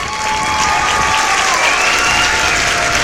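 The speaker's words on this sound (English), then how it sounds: "Blower motor contactor is pulled in, so that was a blower motor. I can see it's running." Blower motor of a Lennox packaged rooftop unit running, a loud, steady broadband whoosh of rushing air with a faint tonal whine riding on top, continuous throughout with no talking.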